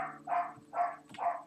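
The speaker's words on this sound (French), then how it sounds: "Y a ton chien qui gueule." A dog barks three times at an even, steady pace during a live French-language stream of the game Undertale. The barks are fairly loud and close, with no talk over them.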